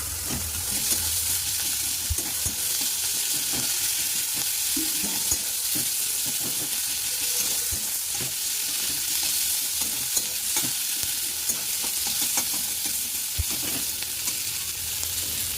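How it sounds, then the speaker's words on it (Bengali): Nigella seeds, onion and green chili sizzle steadily in hot oil in a pan, with a continuous close crackle and occasional stirring scrapes, no talking. "একটু কালো জিরে দিলাম আর এই পেঁয়াজ লঙ্কাটা দিয়ে দিলাম"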